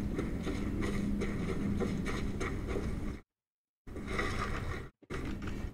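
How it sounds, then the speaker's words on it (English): A horse's hooves clip-clop in Skyrim Special Edition, a steady close, loud run of hoofbeats with game mechanism clatter, broken by two short silent gaps. "And of course I inherited a horse."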